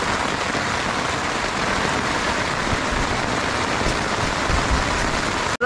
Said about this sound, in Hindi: साउंड सुन सकते हैं बारिश की।